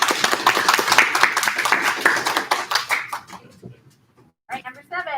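Applause at a school spelling bee in an elementary school: a burst of many hands clapping, dense and lively for about three seconds, then thinning out and stopping, with voices and chatter mixed in and a short spoken bit near the end.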